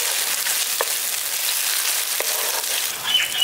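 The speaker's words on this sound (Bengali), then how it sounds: "আদা রসুন বাটাটা দিয়ে ভালো করে এটাকে ভাজা ভাজা করে নিচ্ছি।" Ginger-garlic paste frying with browned onions in a pan for a pointed gourd dish gives a steady, close hiss and crackle that never lets up, with a few soft clicks and no voices.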